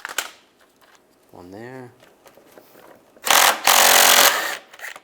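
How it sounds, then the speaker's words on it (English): Radiator bolts on a 2014-2019 Toyota Corolla being removed with a 10mm socket, a brief ratcheting burst near the start, a short spoken remark, then a loud sustained buzzing rattle of a power tool for about a second and a half. "Then we're going to take these two bolts out using a 10mm socket."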